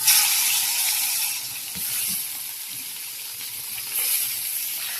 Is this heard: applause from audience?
no